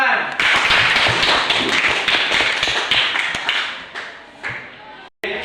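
Students in a classroom clap together in a dense, steady burst for about five seconds, close and loud, then the clapping cuts off abruptly.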